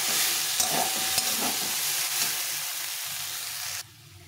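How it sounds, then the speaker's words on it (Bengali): Soybean chunks frying on low heat: a dense, even sizzle with soft stirring scrapes that cuts off abruptly near the end, no voices. "এখন আমি এই সয়াবিনটা, এটা কষা হয়ে গেছে, একদম লো হিটে এটাকে ভেজে নিতে হবে।"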